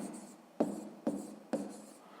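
Handwriting on paper for a math exercise, with three soft strokes or taps in a steady rhythm over faint scratching, quiet and close.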